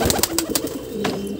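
A wild pigeon calls up close, giving a brief soft coo mixed with quick fluttering bursts, all over in under two seconds.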